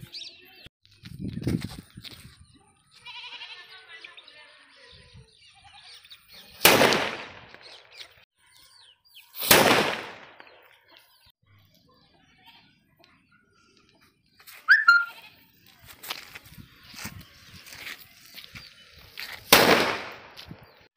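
Salem Singam brand 4-inch firecrackers explode one after another in a test: four loud, sharp cracks spaced several seconds apart over a quiet outdoor background with faint bird calls.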